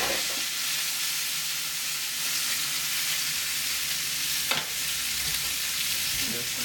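Pastured pork chops frying in a pan: a steady, loud hiss and sizzle fills the whole stretch, with one brief sharp crackle partway through, no talk.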